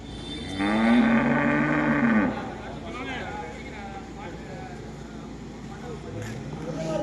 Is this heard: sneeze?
no